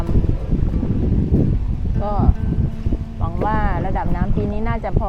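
A rowing boat is paddled across floodwater in a flooded residential estate, giving a low, steady wash of water and movement noise under nearly constant talking voices.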